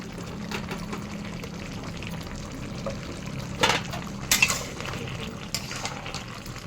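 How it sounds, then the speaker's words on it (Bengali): Raw mustard oil is drizzled over shukto, a Bengali mixed-vegetable dish, cooking in a pan, with a soft, steady sizzle and a few faint utensil clinks and scrapes. "এবার আমি একটু কাঁচা সরষের তেল ছড়িয়ে দেবো।"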